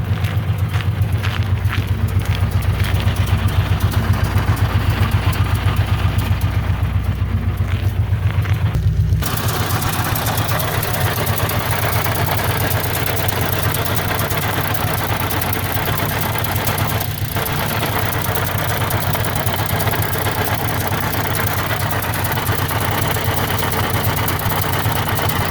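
A 2003 Honda Civic with a faulty transmission makes a steady loud mechanical drone with a low hum, shifting in tone partway through and continuing without pause, no voices.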